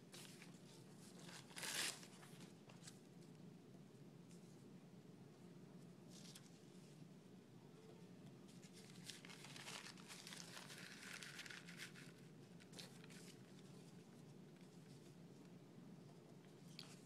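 Clay maraca beads being wrapped in paper towel, faint crinkling and soft rustling handled close by, with a sharper crumple early and more scattered crinkles later, and no speech.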